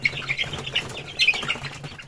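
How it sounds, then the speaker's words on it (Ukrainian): Month-old Hisex Brown chicks flap their wings in a quick flurry of soft fluttering bursts, close by, with faint chirps mixed in over about two seconds. "Це курчата породи Хайсекс Браун."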